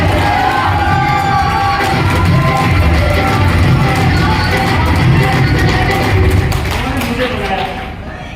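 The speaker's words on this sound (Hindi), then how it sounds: "तो आप सभी के जबरदस्त तालियों के बीच में मैं अपने गुरु संजीव सर के लिए" Sustained crowd noise with cheering and clapping from a large audience at a celebration function in Khandsa, Gurgaon, steady and loud for several seconds before tapering off at the end.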